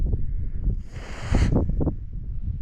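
Steady wind buffeting and rumbling against the microphone while metal detecting with an XP Deus II, with a brief hissing gust rising in the middle.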